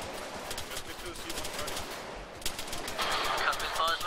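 Covering gunfire in a military video game, a steady run of rapid shots that grows louder and denser toward the end, with voices talking over it.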